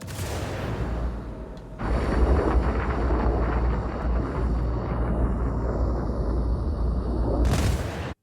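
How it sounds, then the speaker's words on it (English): A missile fired at a ship in the Star Citizen space game, heard as a sudden loud rushing roar that kicks in after a low hum and holds steady for several seconds before cutting off. "I have a lock for my Task Force 1. Fire."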